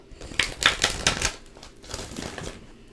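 Quick bursts of tarot cards riffling and slapping together, two shuffles in a row with a short pause between, close and fairly crisp.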